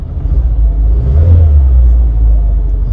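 A Peugeot 206 engine with its check-engine light on runs steadily at close range, a loud low rumble that swells briefly as it revs, with no voices over it.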